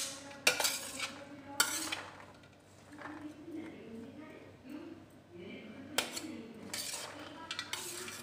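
Sprouted chana chaat ingredients are mixed in a bowl with a spoon, giving soft scraping and stirring. Occasional sharp clinks of metal against the bowl ring out, with a low voice faintly in the background.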